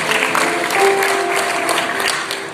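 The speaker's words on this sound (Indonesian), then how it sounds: "Tepuk tangan yang luar biasa." A church congregation gives a round of applause, dense steady clapping at close range with a faint sustained tone underneath, lasting the whole stretch.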